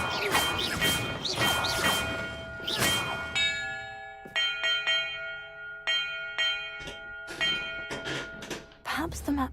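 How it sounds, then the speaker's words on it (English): Bells ring one after another in a video game puzzle, each struck tone clanging and then sustaining a long ringing decay, while someone talks over and between the chimes. "Perhaps the map contains clues about the order I'm supposed to ring the bells in."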